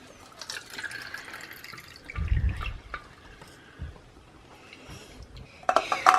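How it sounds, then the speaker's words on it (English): Water runs from an outdoor spout in brief, faint splashing bursts over a quiet background, with a louder gush near the middle and a sharper clatter at the end. "we have our water out of a spout right there."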